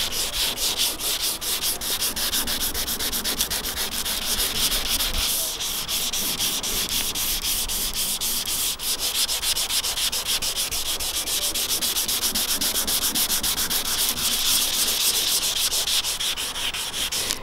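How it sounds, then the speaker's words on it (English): Continuous rhythmic wet sanding by hand on the painted trunk lid of a 1990 Mazda Miata, steady back-and-forth strokes close up, with no talking. "all you do is you just wet it and then start sanding"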